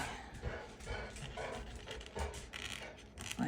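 Dogs panting and fussing indoors, with soft breathy pants and small whimpering noises scattered through the few seconds, fairly close but quiet.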